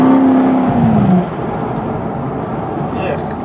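A GMC Terrain on an accident avoidance course, engine loud at first with a falling tone, then a steadier, quieter drone with a slight rise near the end.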